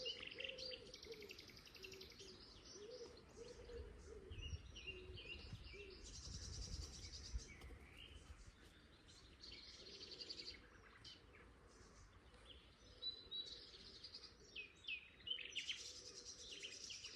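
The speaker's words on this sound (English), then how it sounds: "Very loud nightingale." Nightingale song from scrub and wild hops on the Isle of Wight rings out close and loud, with varied bursts of chirps, trills and whistles over a low background hum of distant noise.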